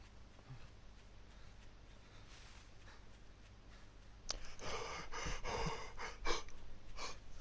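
A voice imitating heavy, gasping breathing, several loud close breaths and gasps following a quieter lead-in, set in the game 7 Days to Die.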